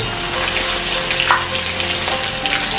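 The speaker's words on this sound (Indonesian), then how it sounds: "langsung aja kita goreng bawang merah dan bawang putih" Shallots and garlic fry in hot cooking oil with a loud, steady, crackling sizzle that fills the whole moment, close and continuous, with a few brighter pops.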